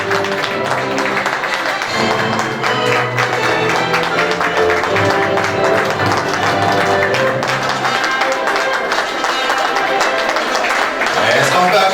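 Guests at a civil wedding applaud the bride's entrance with steady, dense clapping under music, while voices and cheers rise from the crowd throughout.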